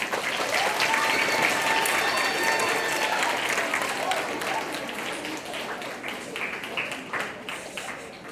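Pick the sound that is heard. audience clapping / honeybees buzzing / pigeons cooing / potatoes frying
audience clapping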